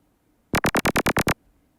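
Eight rapid, punchy FM synth lead notes for psytrance, with a sharp clicky attack from turned-up FM, fire off in a tight run, then stop, leaving near silence.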